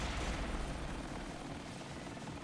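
A helicopter hovers overhead in the Japanese Vita shooter Bullet Girls, a steady, dense rotor roar that fills the whole stretch at even loudness with no talk.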